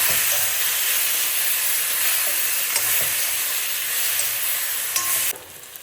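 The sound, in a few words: stirring food in a pan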